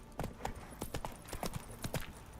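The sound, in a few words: horse Roach's hooves clip-clopping in Witcher 3 video game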